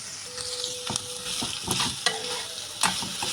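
A vegetable poriyal with grated coconut being stir-fried in a pan, with a steady close sizzle broken by several sharp scrapes and clinks of a spoon against the pan.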